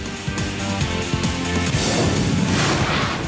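Fireworks crackle and boom at a street celebration in Ahmedabad, Gujarat, marking approval to raise the Sardar Sarovar dam's height, with dense overlapping bangs and bursts that stay loud for the whole stretch.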